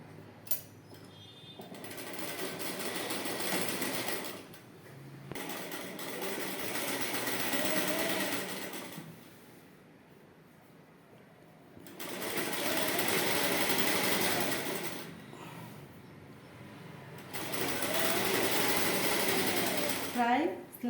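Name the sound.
sewing machine stitching a wrap trouser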